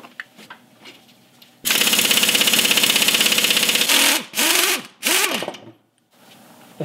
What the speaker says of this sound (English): Now I'll loosen up all four nuts on top of the U-bolts here.